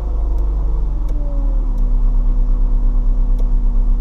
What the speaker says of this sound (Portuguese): Vamos dar um rolezinho de Fiesta aqui.